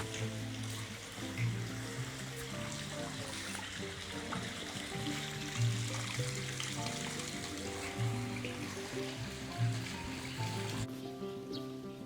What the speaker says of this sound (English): You can hear the gurgling sound of water and the birds chirping.